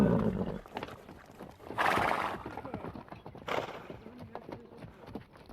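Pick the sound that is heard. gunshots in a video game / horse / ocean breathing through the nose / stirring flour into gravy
horse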